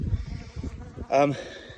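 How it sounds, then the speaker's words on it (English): Honey bees buzz around a hive during a late-winter inspection, a short, close, loud buzz bursting over a low, rumbling background. "It's good numbers of bees milling around."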